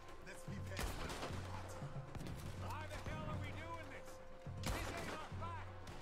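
Red Dead Redemption 2 gunfight on a Guarma beach: scattered gunshots with two heavier cracks standing out, mixed with low droning ambience and indistinct shouting voices.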